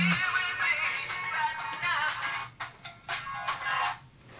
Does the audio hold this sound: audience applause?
no